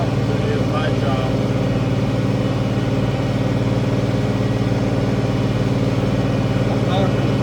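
An International 1566 tractor engine runs steadily during spring field tillage, a loud constant mid-pitched drone with rattles and cab noise throughout, heard close from inside the cab.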